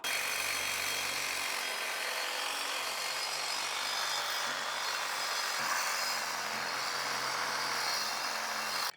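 A power tool grinds steadily through a stripped engine mount bolt on a 2004-2008 Ford F150 with a 4.6L or 5.4L engine, making a loud, continuous, harsh cutting hiss that stops abruptly at the end.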